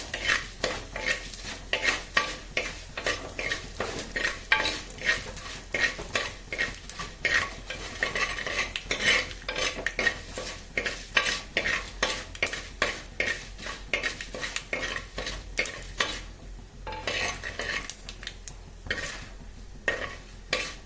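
Urad dal fries in a pan while a spoon stirs it, making rhythmic close scraping and clinking strokes over a soft sizzle that continue for about twenty seconds without talk.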